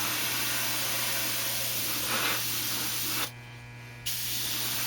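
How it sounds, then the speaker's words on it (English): An airbrush sprays Alclad steel metallic paint onto a model as a steady, close hiss. The hiss cuts out briefly partway through, then resumes. "you can actually move your airbrush back from your work a bit"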